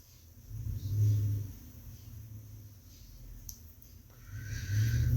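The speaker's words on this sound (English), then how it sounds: "It's crazy how the roads are closed, everything's closed down, but I'm hearing cars." Cars pass on a road after about two feet of heavy snow, heard as a low rumbling swell that builds, fades and returns, fairly distant and soft with no voices.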